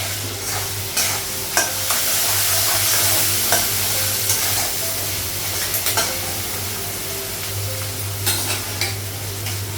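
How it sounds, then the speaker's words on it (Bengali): Cumin powder and cardamom fry in a hot pan with a steady broad sizzle, broken by repeated scraping stirs of a spoon against the pan and an oily hiss throughout. "ভেজে নেবেন"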